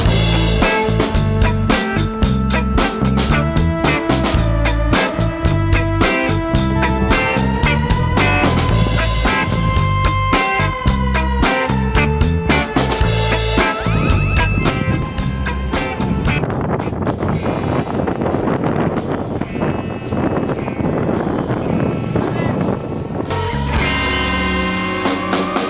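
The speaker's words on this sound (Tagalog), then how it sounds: "Kasi nga tol, talagang napakahangin dito." Strong, gusty wind buffets the microphone at a hilltop wind farm in Rizal, a loud, constant rumbling roar that fills the whole stretch without talk.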